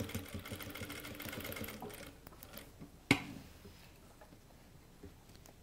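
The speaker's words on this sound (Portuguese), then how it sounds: "E já vou prender. Uma costurinha bem na pontinha, só para segurar." A sewing machine stitches a short run along the edge of two fabric pieces, its rapid mechanical whirring and ticking steady for about two seconds, then a sharp clunk as it stops, leaving quiet handling sounds.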